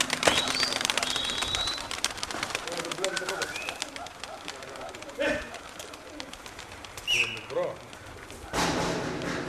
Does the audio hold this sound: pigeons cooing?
yes